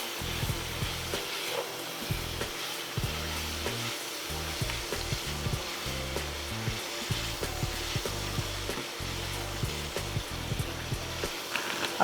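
Mushrooms and onions fry with ground meat in a pan for a pasta dish: a continuous sizzle, broken by repeated soft scrapes and thumps of stirring. No voices.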